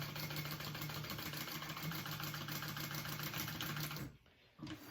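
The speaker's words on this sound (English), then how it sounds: "I am going to go ahead and do another row of stitching right beside that row" A sewing machine runs steadily, stitching a second reinforcing row on a tote bag, with a continuous close motor hum and rapid needle clatter that stops abruptly near the end, leaving a brief lull.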